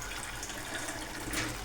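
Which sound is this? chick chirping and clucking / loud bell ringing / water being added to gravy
water being added to gravy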